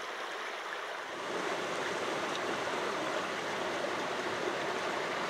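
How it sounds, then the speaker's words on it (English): Glendale Brook, a mountain stream, cascades down a steep mountainside in late winter in a steady, full rushing roar of water. It stays close and constant, and nobody speaks. "Glendale Brook cascades down the side of a mountain into the middle branch of the Westfield River"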